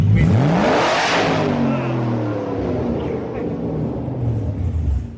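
A straight-piped Aston Martin V8 Vantage revs hard, its harmonics sweeping up then holding a rough, throaty roar for several seconds, loud, raw, close and unmuffled.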